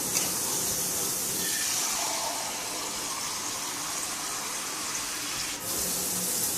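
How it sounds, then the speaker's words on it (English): Water pours steadily into a pot in a continuous gushing splash, close by, with a brief dip near the end; cold water added for beef stew. "add 5 cups of cold water"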